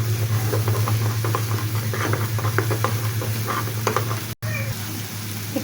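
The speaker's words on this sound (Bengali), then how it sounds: "এখন আমি পেঁয়াজ পেস্টটা দিয়ে দিব। পেঁয়াজটা আমি কিছু টাইম ভেজে নেব।" Onion paste frying in hot oil for a family roast, giving a steady close sizzle with crackling pops and occasional stirring scrapes throughout, briefly cutting out near the end.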